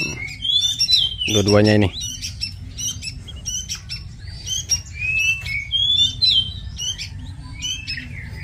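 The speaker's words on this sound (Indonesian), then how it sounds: "Nah, ini dia burung punainya, guys." Two male pink-necked green pigeons with mutated plumage call outdoors in repeated short whistles and chirps, loud and close. Someone speaks briefly early on.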